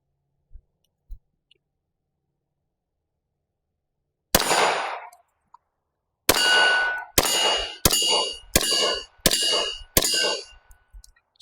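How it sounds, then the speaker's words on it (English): A Ruger RXM pistol fitted with a compensator fires on a range: one sharp shot, a pause, then a rapid string of six more evenly spaced loud cracks with ringing tails. "This is just to get some shots down the range, just to figure out if that compensator really does help reduce the recoil."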